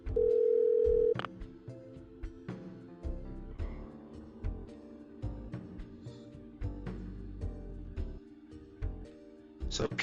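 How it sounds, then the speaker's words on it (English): A telephone tone in the video game Parasite Eve 2, a steady electronic beep lasting about a second at the start, followed by quieter game music and effects. "So Pierce answers the phone instead of Hal"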